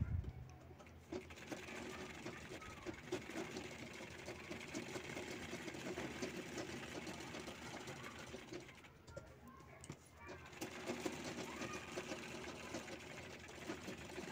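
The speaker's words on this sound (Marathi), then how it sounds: "चारही बाजू शिवून घ्यायचे आहेत।" A sewing machine stitches a fabric shoulder bag in a steady, rapid whirring hum that runs nearly the whole time, pausing briefly partway through before starting again, quiet and close.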